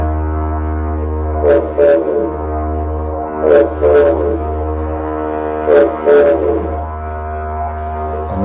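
A deep, steady didgeridoo drone with three evenly spaced pairs of hooting, pulsing calls voiced over it, imitating a bush pigeon's coo.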